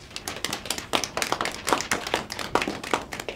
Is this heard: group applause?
yes